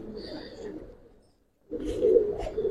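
Silver Giribaz pigeons give low throaty coos in two bursts, a softer one first, then a short quiet gap and a louder, fuller spell of cooing nearby.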